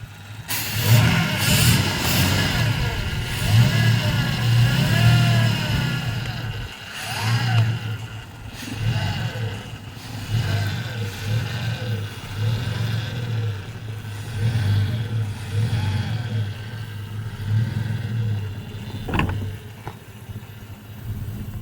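A car with a broken fuel pump runs and drives, its mid-pitched engine revving and surging repeatedly in uneven pulses, loud and close, with a sharp knock near the end and no talking.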